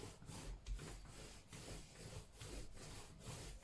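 A wooden rolling pin rolling out katmer dough on a floured surface, giving a soft rhythmic rubbing and rolling that repeats in even strokes, close and quiet.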